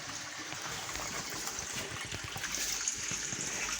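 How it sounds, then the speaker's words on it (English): Water runs continuously into a faulty toilet bowl, a faint, steady trickle and hiss with small splashing irregularities throughout. "As you can see here, this is my toilet and probably the water is just running."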